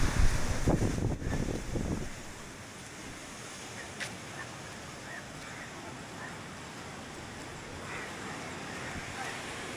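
Ocean surf at a beach in Thiruvananthapuram, a steady wash of waves under heavy wind buffeting the microphone, with a louder rush at the start and faint bird calls.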